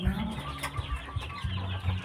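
Chickens kept in front of a house cluck in short, soft bursts close by, several low calls overlapping irregularly against faint background noise.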